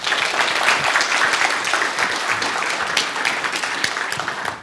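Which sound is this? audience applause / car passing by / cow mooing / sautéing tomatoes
audience applause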